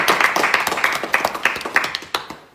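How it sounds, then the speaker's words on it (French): Small audience clapping in a lively burst of rapid, irregular claps for about two and a half seconds, fairly close and fading slightly toward the end. "Applaudissements,"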